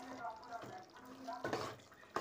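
Coriander powder being stirred into a village-style mutton curry with fenugreek leaves, giving soft scraping and stirring with a faint sizzle of oil, a clearer stretch of stirring near the end.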